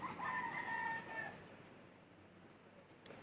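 A distant rooster crows once, faint, over quiet outdoor background noise.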